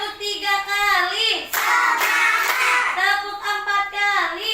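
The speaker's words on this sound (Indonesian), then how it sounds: "Tepuk 3 kali." Hands clap three times in a classroom concentration-clap game, a brief burst of claps set between stretches of chanted, sing-song voices.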